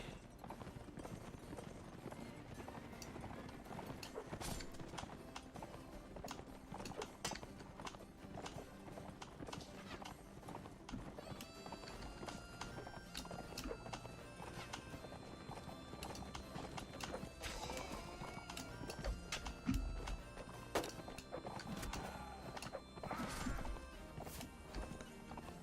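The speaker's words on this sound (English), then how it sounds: "That is a fantastic horse." A horse trotting in Mount & Blade Warband with the Nova Aetas mod: steady, rhythmic clip-clop hoofbeats continue throughout, with occasional clanks and thuds and faint talk underneath.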